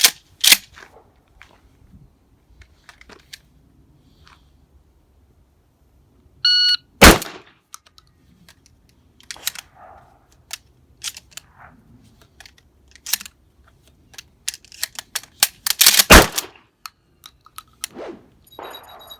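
A shotgun fires a single loud shot, then shells are pulled from a side saddle and loaded in a run of metallic clicks and clacks, followed by another sharp blast and more clattering handling noise.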